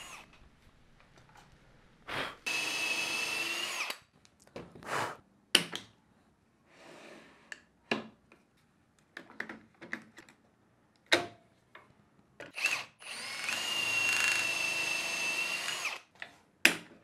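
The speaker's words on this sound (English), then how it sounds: "I can clamp it and drill." Power drill whirring in two sustained bursts through a drill bush in a Peanut Mini Jig, close up, separated by clicks and handling knocks of tools and clamps.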